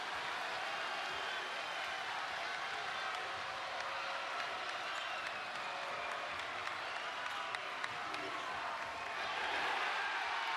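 A basketball arena crowd at a college conference final rises in a dense, steady roar of cheering and clapping that holds loud throughout and swells slightly at the end.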